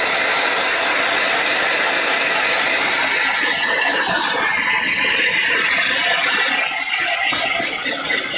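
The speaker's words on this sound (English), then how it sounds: "let me just dry this off with my supercharged heat gun" A supercharged heat gun blows a steady, loud broadband roar of hot air for the whole stretch, with no pauses and a faint mechanical rattle beneath the rush.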